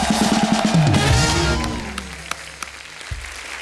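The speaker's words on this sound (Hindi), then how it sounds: "अरुणा जी के लिए जोरदार तालियां" Studio audience applause welcoming Bollywood actress Aruna Irani on a retro-themed TV show, a broad wash of clapping that swells early over music, then thins and fades toward the end.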